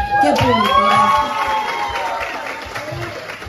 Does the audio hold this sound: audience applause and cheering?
yes